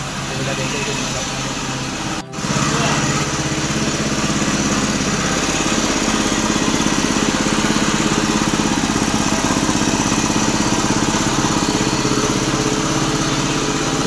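A new tractor's engine runs steadily nearby, a loud, continuous buzzing chug with one brief cutout near the start, while people talk over it.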